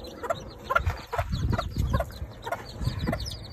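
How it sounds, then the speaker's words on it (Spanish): A nest of newly hatched chicks, seven in the brood, gives rapid high peeps and a few clucks, close by and in quick irregular bursts. "Aquí nomás sacando los pollitos del nido, cambiándolos."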